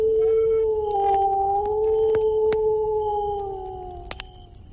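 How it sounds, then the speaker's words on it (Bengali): A distant jackal howls on a foggy winter night, a long sustained wavering cry that slowly fades, alone in the quiet with faint clicks. "চারপাশে নিস্তব্ধতার মাঝে শোনা যাচ্ছে দূরের শিয়ালের ডাক।"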